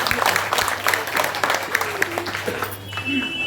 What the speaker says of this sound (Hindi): इनके लिए एक बात जोरदार ताली।